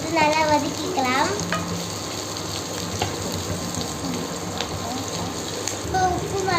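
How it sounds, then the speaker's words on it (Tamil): Mustard seeds and onions sauté in hot oil for an egg podimas, giving a bright, busy crackle and sizzle. Stirring scrapes come and go through it, louder near the start and end, with no speech. "எண்ணெய் ஊற்றி கடுகு போட்டு வெங்காயம் போட்டு நல்லா வதக்கிக்கலாம்"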